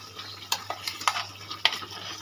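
Spice paste for a chicken curry sizzles in a pan while a spoon stirs it, giving a steady frying hiss broken by several sharp scraping clinks against the metal, close up and quiet.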